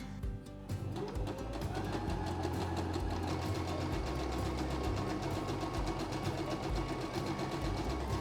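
A sewing machine runs steadily as it stitches a long straight seam down a sleeve tube of a dress made from a bedsheet, with a continuous mechanical whir and rapid rhythmic ticking throughout.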